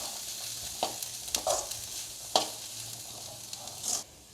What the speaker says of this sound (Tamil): சுண்டலை போட்டு நல்லா எல்லாத்துலேயும் வர்ற அளவுக்கு மிக்ஸ் பண்ண வேண்டியது தான்